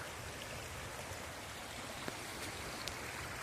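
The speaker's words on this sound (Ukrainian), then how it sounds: "Вот такая вода, вон туди несеться як." Muddy floodwater rushing after an overnight storm, a steady broadband roar of fast-flowing water close by, continuous and even with occasional faint splashes and no voices.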